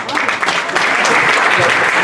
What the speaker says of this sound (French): Et on applaudit Marcus, candidat numéro 1